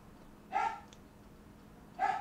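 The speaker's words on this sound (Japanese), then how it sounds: "ほらもうミミちゃんも興奮しちゃってるよワンワンワンワンワンワンワンワンしてね" An excited small dog barks twice, two short, fairly quiet yaps spaced about a second and a half apart indoors.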